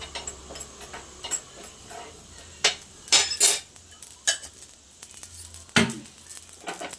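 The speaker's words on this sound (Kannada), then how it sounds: "ಎಣ್ಣೆ ಹಾಕಿಲ್ಲೂ ಚಟಪಟ ಅನ್ನೋದು ಸಾಸಿವೆ" Mustard seeds crackle and pop while dry roasting in a pan without oil, giving sparse, irregular sharp ticks and a few louder pops over a quiet background.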